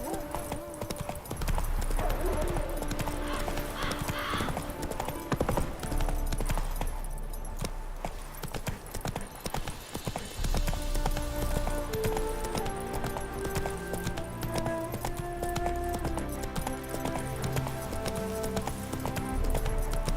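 Roach, a horse in The Witcher 3 game, gallops with steady, rapid hoof clip-clops under game music, with a brief whinny and a voice speaking occasionally.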